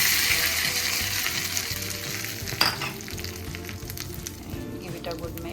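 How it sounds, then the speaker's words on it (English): Hot tempering (tadka) poured into coconut chutney made to go with idli, heard as a loud, steady sizzle and crackle close by, with a brief sharp clink partway through and a voice faintly underneath. "Now I will switch off the flame. And add this tadka to this chutney"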